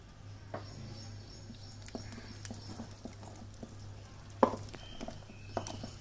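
Semolina cake batter being stirred with a little milk gives faint, soft scraping and tapping, with a couple of sharper clicks of a spoon against the bowl over a low steady hum.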